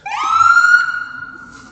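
An ambulance siren rises into a single loud, sustained wailing tone that holds steady and then fades as the vehicle passes, with no talk over it.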